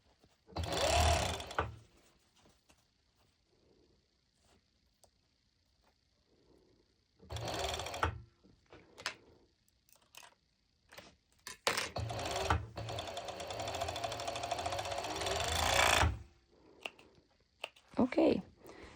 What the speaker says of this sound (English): I'm going to serge all around.